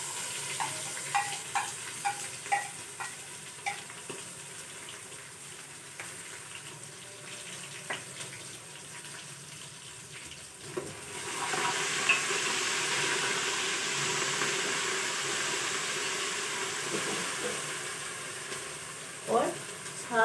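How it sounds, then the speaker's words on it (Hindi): Ginger, garlic and green chili paste for a turnip and chicken curry hits a hot pan with a sudden, steady sizzle, following quieter clinks and kitchen taps, with a final utensil clatter near the end. "ये देखिए, अदरक, लहसुन और सब्ज़ मिर्च का पेस्ट अब हम डालेंगे।"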